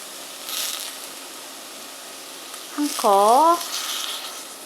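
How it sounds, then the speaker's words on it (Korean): Onion and button mushrooms sautéing in a pan give a soft, steady sizzle, with a brief wavering voice-like sound rising over it near the end. "지금 양파하고 지금 이게 양송이 버섯이 이제 지금 살짝 지금 볶아지고 있잖아요"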